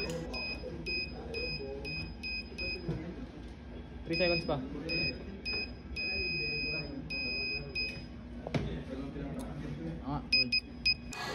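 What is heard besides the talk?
electronic buzzer activated by a push button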